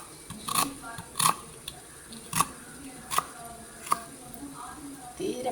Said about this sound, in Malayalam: തീരെ പൊടി പൊടിയായിട്ട് അരിയണം.